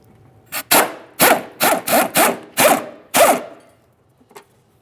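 Upper mounting bolts of a rear shock absorber on a 2005-2010 Chrysler 300 being worked loose with a tool on 16mm bolt heads, seven or so loud close ratcheting rasps in a steady rhythm, then a faint knock.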